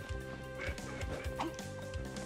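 A crow in the video game Ninja Gaiden Ragebound gives a few harsh, squawking caws over a steady bed of in-game music and effects.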